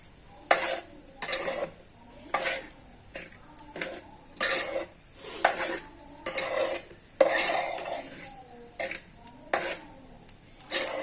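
Food being stirred and mixed in a pan, with repeated rhythmic scraping strokes of a utensil against the metal, about a dozen bursts spaced close together, near and clear over a faint background.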